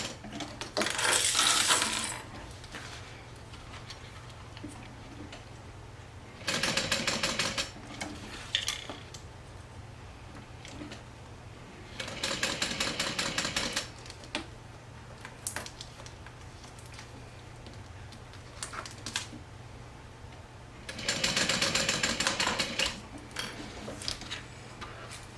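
Sewing machine stitching a strap seam, four short bursts of fast ticking mechanical rattle separated by quiet gaps over a faint steady hum, close and moderately soft.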